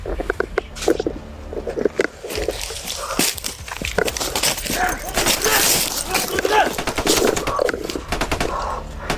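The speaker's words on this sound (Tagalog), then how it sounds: "may putukan tol, narinig ko tol" Bursts of gunfire crack out repeatedly, some in rapid fusillade-like runs, mixed with a dog barking, footsteps and voices talking nearby.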